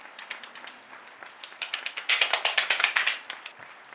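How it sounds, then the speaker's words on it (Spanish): A single person claps inside a room with wooden floors and ceilings, a quick run of sharp hand claps that grows louder and faster before stopping. "El aplauso de Paul."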